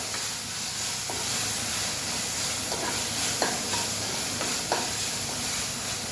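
Potato and pea masala with tomato stirred in a sizzling pan, a constant frying hiss with occasional sharp scrapes and clacks of the spoon against the pan, close and steady.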